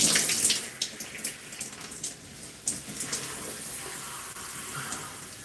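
A tap runs steadily while hair is rinsed during a wash-and-go reset, a close, continuous gush of water that splashes more heavily at first and then settles into an even flow.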